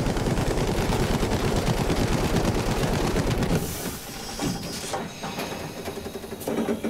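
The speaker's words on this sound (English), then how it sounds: "That's the anti-air gun waking up." Anti-air gun in Battlefield 5 firing rapid, loud bursts of rattling shots for several seconds, then fading back to scattered distant pops and engine noise.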